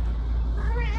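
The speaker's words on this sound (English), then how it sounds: "I got a cat up on my desk" A house cat up on a desk lets out a short meow, close and fairly loud, over a steady low background hum.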